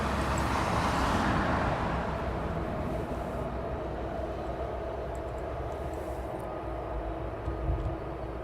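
Aircraft taxiing to its parking stand at East Midlands Airport, a steady engine rumble and whine heard from a distance that starts a little louder and then stays even throughout.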